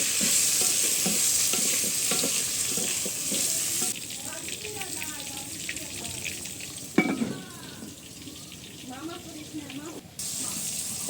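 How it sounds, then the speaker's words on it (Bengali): Spiced pointed gourd frying in hot oil in a home kitchen, stirred with a spatula: a steady close sizzle with scraping strokes, a brief splash of tap water partway through, and faint voices beneath. "এর মধ্যে মশলা মাখানো পটলটা দিয়ে দিলাম এখন ভালোভাবে নেড়ে চেড়ে"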